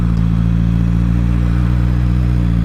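A motorcycle idles while stopped in traffic on a hot day with the engine overheating, its steady, loud, close low rumble running unbroken throughout.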